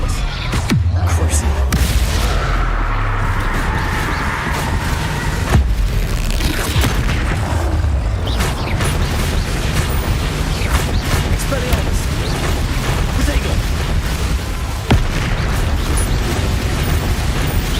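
Incendio fire spell cast in Hogwarts Legacy, a loud booming burst of flame amid dense game combat noise and mechanical clatter, with a player talking over it.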